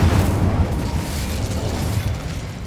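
The Incendio fire spell from Hogwarts Legacy goes off as a loud, rumbling burst of roaring flame with a whooshing texture. It holds steady for a couple of seconds, then fades a little toward the end.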